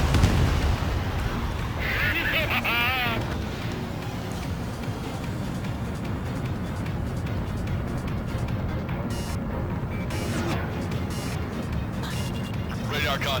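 In the Ace Combat 7 Anchorhead Raid mission, a missile launches amid a loud, rumbling barrage of explosions and gunfire. The dense, continuous blasts play under radio chatter.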